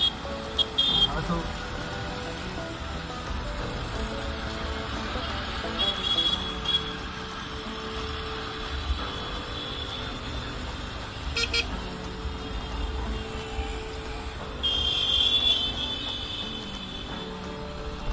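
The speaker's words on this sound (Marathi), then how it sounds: "इथे पण ट्रॅफिक असं हे आता मला पहिल्यांदा माहीत पडत आहे." Road traffic around a Bajaj Avenger 220 Street motorcycle on a busy road: a steady low rumble of engines, with short car horn toots near the start and again later, and voices talking over it.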